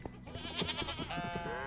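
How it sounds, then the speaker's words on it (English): Goats and sheep on a video game farm bleat in a quick cluster of overlapping wavering calls, near and fairly clear, over a short stretch. "Oh, so many goats and sheep."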